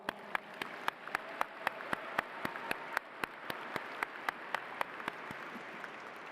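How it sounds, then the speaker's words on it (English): Slow, evenly spaced claps ring out one by one against a quiet room at an academy graduation ceremony, roughly three per second, sharp and moderately loud, with a faint background hiss and no voices. "Another round of applause."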